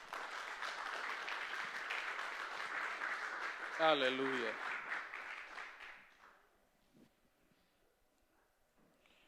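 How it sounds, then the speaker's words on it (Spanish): A church congregation at a Sunday service claps and cheers together in sustained applause, a voice calling out over the noise before it fades away to near silence. "Dale un aplauso al Señor."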